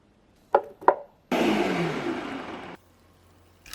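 Chopped tomatoes whirring in a blender for about one and a half seconds, a loud broadband burst that starts abruptly and cuts off, with two sharp knocks just before it.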